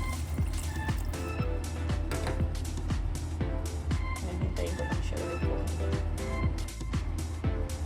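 Mackerel simmers in a pan, with a steady run of small bubbling pops and wet squishy crackles as a little water is added to the boiling liquid, close and fairly quiet.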